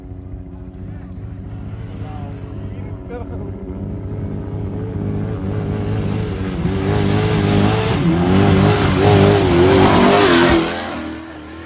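A car engine revs up and accelerates, the pitch climbing and the sound growing louder over several seconds before cutting back down, with a voice briefly heard early on.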